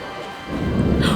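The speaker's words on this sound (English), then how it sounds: "That is some gnarly thunder." Deep thunder rumbles near Interlaken, Switzerland, swelling louder in the second half into a broad, rolling roar with rain-like hiss above it; no talking.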